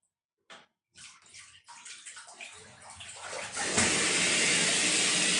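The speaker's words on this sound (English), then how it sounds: "Should we get some more hot water in the bath?" Hot water runs into a bath, a few short splashes at first, then a steady loud rushing pour that swells and holds as the tap opens fully.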